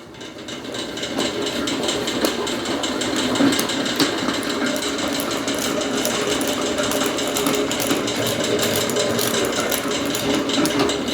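Honey extractor spinning frames of honeycomb during a home honey harvest, giving a steady, loud mechanical whir with rapid rattling that holds continuously from start to finish.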